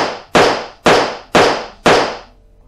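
Bullet gunfire in the video game The Consuming Shadow: five sharp, evenly spaced loud shots about half a second apart, each with a short decaying tail, no talk over them.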